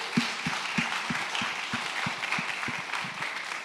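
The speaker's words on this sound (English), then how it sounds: "please just join me in giving a round of applause for everybody that put today together" An audience applauds the organisers of a live-streamed event in a hall, a steady mass of clapping with a few louder rhythmic claps standing out nearby.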